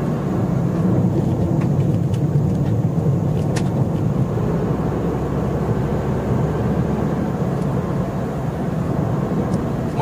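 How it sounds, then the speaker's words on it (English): A 2012 Ford Fiesta rolling over a loose gravel road at night, heard from inside the car as a steady low rumble with continuous crunching texture and faint high ticks of stones. "More loose gravel."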